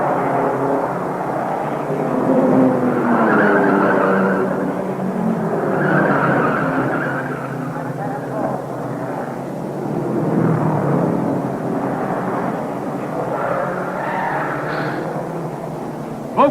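A 1952 Indianapolis 500 race car, its steering gear failed, skids into the wall; a loud, sustained roar of engine and tire noise swells and fades over about sixteen seconds with no voices.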